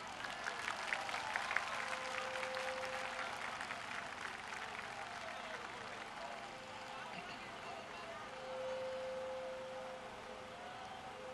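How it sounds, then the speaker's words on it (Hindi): A crowd applauds at a political rally in Khanewal, sustained clapping spread across many hands over roughly eleven seconds, with a steady tonal hum running beneath and loud cheering energy throughout. "तो ताली भी ऐसी होनी चाहिए"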